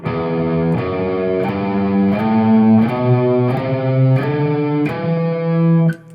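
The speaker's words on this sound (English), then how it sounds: "The next scale that we'll practice is the Aeolian mode" A distorted electric guitar plays the Aeolian minor scale as a run of eight sustained single notes. Each note rings loud and rich with harmonics and steps evenly upward with no talking.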